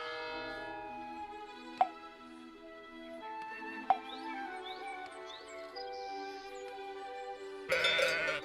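Sheep bleat at a farm in the trading game Let Them Trade, several tonal calls heard against steady game music with chime-like bell accents, ending in a brief noisy burst.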